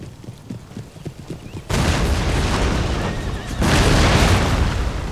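Rocket batteries fire during an Empire: Total War battle, a sudden loud whooshing roar that swells again moments later, following quieter thudding footfall-like sounds, with no talking over it.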